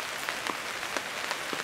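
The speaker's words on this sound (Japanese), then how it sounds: "今晩このまま雨って感じですね。" Steady rain patters on a campsite in the mountains of Togakushi on a summer evening, a soft continuous hiss with faint scattered drops and no voices.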